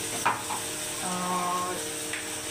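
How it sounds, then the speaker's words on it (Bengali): A soft, steady sizzle of ginger and garlic frying in a pan, quiet and close, with a couple of light scrapes from stirring. "এবার একটু আদা রসুন দিয়ে দেবো, দিয়ে কষিয়ে নিয়ে"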